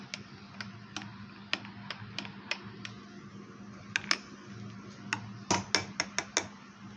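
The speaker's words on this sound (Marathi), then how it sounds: "आणि आता हे मस्त असं चमच्याने असं हलवून घ्यायचं आहे।" Spoon stirring hot milk and cappuccino coffee in a cup, producing light, bright clinks and ticks against the cup, irregular and quiet over a low background hum.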